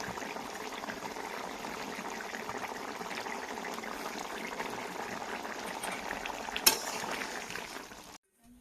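Fish and greens fry in a pan over a wood fire, giving a steady, quiet sizzle and bubbling with a small clink near the end before it cuts off.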